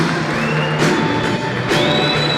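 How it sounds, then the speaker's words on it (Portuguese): Audience at a motivational talk show cheering and applauding a guest, a loud sustained crowd roar with whoops and shouts rising in bursts over continuous clapping. "Uma salva de palmas"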